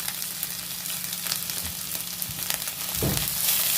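Onions, green chillies and cashews fry in a pan for a chicken gravy, giving a steady, close sizzle with occasional stirring scrapes and a louder burst of crackling near the end, with no talking.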